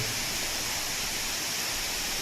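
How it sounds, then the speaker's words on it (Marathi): A waterfall flows strongly after heavy rain from the cliff edge at the Tulja caves. Its steady, even rush is faint and distant, with no voices. "जोराचा पाऊस असल्यामुळे आज या ठिकाणी चांगलं पाणी देखील ह्या धबधब्याला आहे"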